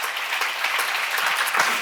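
A church congregation claps together in a steady, dense patter of hands through a sermon seminar, sustained and fairly loud with no voices standing out.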